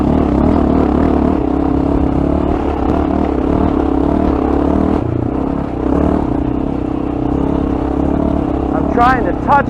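A Honda XR650L dual-sport motorcycle powers through deep sand whoops, its engine surging and revving steadily with clattering and scraping, and a sharper rising whine near the end.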